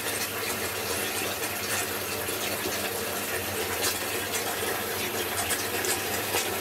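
A tap pours water into a bathtub, filling it: a steady, loud rushing gush that runs without a break.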